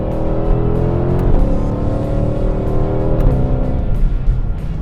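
A 2020 Mustang Shelby GT500 engine revs sharply as the manual-mode transmission downshifts while driving, with a loud, rising roar, quick shift blips and a steady close-up rumble.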